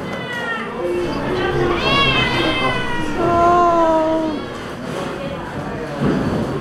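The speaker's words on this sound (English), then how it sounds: "So now we just vaccinated one of the cats, and he really, really didn't like it" A cat yowls and meows repeatedly in long, drawn-out, distressed cries just after a vaccination at a cat village, loud and close, over a busy background of people and children.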